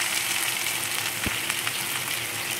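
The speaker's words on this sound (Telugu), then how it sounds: "Oil heat ఎక్కిందండి. ఇప్పుడు ఆనియన్ వేసుకోవాలి." Onion frying in hot oil for a Telugu radish (muli) curry, a loud, dense, continuous sizzle with one sharp tap of a spoon partway through, and no voices.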